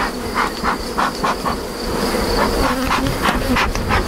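Honeybees hum in a steady, dense buzz at a busy, thriving hive in an apiary during a brood-frame inspection. The drone is close and continuous, with no talking.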